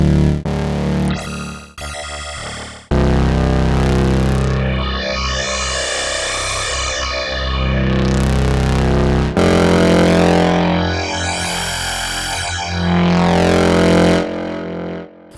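A loud synthesizer tone in Bitwig is heavily distorted, with sweeping filter, wavetable and FM changes that rise and fall in buzzing, gritty waves; no voices.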